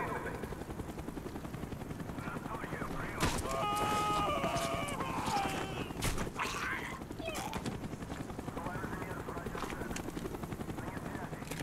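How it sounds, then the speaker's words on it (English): A helicopter in the Call of Duty: Black Ops game circles with a steady rapid rotor chop under game sounds, while characters speak over the noise. "The chopper is coming around again."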